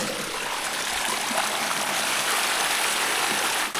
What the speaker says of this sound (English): cover this, and wait for the pipe to fill with water.